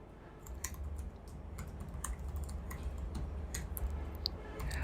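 Computer keyboard typing, a quick run of light clicky keystrokes close by over a constant low background hum, with no talking.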